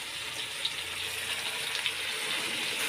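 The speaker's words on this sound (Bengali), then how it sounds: "একটু জল দিয়ে ধুয়েও দিতে হবে" Water from a tap runs steadily into a pan to rinse off clinging spices during home cooking of dal, a soft continuous gush with a few faint clinks and no talk.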